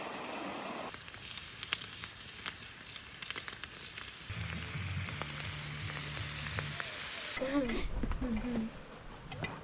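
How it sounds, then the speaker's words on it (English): Chopped tomato sizzles in a pan at a cold winter bush camp on an off-road trip, a steady soft hiss running beneath people talking nearby. "I've just got some tomato cooking over there"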